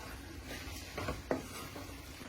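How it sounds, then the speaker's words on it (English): Tagliatelle is stirred and coated in sauce in a pan. It makes soft, quiet scraping and wet shuffling sounds, with a couple of louder utensil knocks against the pan. "I'm going to add the tagliatelle to this dish and coat it all"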